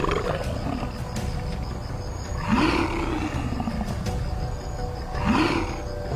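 Lions roaring during a ferocious fight on an open plain, deep rolling roars rising twice over a dense, continuous rumble of growls and scuffling.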